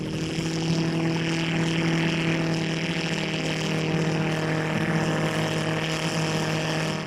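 A homemade helicopter driven by a car engine runs with a steady droning hum and throbbing rotor tone, loud and continuous with no pauses and no talking.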